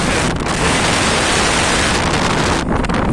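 Strong southwesterly lodos wind roars steadily into the microphone in Ereğli, a loud, continuous rushing buffet with brief dips in intensity.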